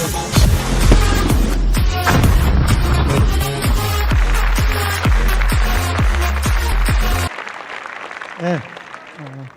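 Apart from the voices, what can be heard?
audience applause welcoming a lecturer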